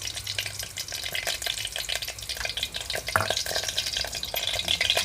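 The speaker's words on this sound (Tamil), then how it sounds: "பாருங்கள், எண்ணெயை ஊற்றிக்குவோம். இது வந்து கடலை எண்ணெய் நான் ஊற்றிக்கிறது." Groundnut oil being poured into a hot pan for a brinjal and chickpea tamarind curry, a steady crackling hiss with faint liquid splashing, close and moderately loud, with no one talking.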